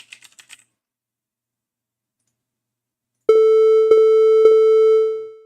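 After a few quick keyboard taps and a pause, a Tone.js triangle-wave synthesizer plays one loud, steady, hollow pitched tone. It restarts twice in quick succession, then fades out at the end.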